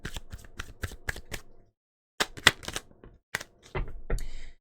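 A deck of tarot cards is shuffled in quick crisp riffling bursts, then falls silent for a moment before more card flicks and slides as cards are drawn, close and clear.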